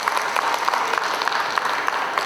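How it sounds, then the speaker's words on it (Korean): A lecture audience claps after a professor's talk on a historical temple site, a continuous close, loud burst of many hands filling the short stretch without speech. "네, 다시 한번 큰 박수 부탁드립니다."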